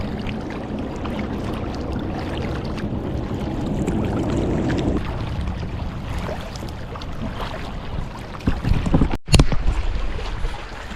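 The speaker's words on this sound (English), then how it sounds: "A little windy." Wind gusting while kayaking in a Baja California bay, a steady rough rush with paddle and water sounds, growing louder toward the end.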